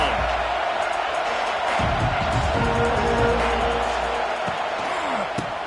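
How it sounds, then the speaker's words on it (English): A football stadium crowd roars in a steady loud wash of cheering and noise, with a commentator's voice running over it throughout. "This crowd ready to make its presence known."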